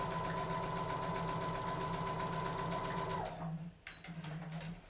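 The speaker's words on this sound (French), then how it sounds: "Donc j'ai cousu un des côtés, maintenant je fais les 2 épaules." Sewing machine running steadily as it stitches the shoulder seams of a dress, a continuous close mechanical whir with rapid needle pulses that stops near the end, followed by brief short bursts.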